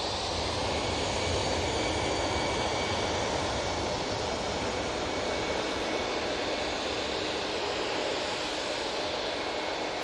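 Jet engines of a TUI airliner at Manchester Airport give a steady, broad roar that stays loud and even throughout, with no voices.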